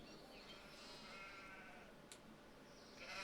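Sheep bleat continuously in Farming Simulator 25, a faint layered chorus of several animals blending into a steady wash, with no talking.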